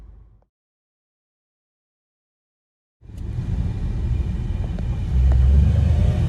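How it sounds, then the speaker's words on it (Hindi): A Maruti Suzuki Wagon R with about 270,000 km and no cabin insulation, heard from inside in first gear: after a silent gap, a steady, loud, low engine rumble starts and swells slightly toward the end. "इस गाड़ी में जो है इंजन की नॉइस वो अंदर फील हो रही है क्योंकि इसमें इंसुलेशन नहीं है"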